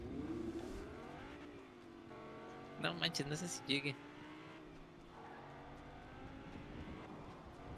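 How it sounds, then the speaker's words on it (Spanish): Cars driving in Fortnite, a steady engine drone running beneath a player's conversation, with a brief burst of harsher mechanical noise midway. "Son dos coches. Van en dos coches, malditos."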